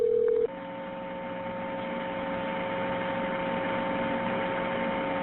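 A recorded 911 callback to a funeral home starts with a short dialing tone. Steady electronic tones then continue over a constant line hiss.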